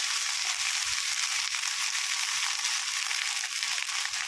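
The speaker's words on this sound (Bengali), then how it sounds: "এরপরে দিয়ে দেব এই ব্লু রাইস। তো ব্লু রাইসটাকে আস্তে আস্তে এর মধ্যে ঢেলে দিলাম।" Blue rice is poured slowly into a pan of sizzling butter with cashews and raisins, producing a steady hissing fry with soft grainy rustles from the rice.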